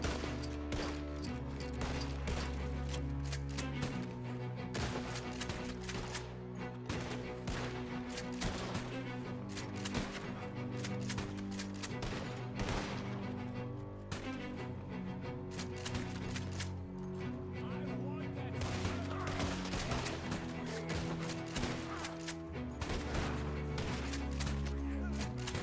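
Rapid, overlapping gunshots from a .22 rimfire rifle and other weapons in Red Dead Redemption 2, sharp cracks repeating densely throughout under a continuous background score.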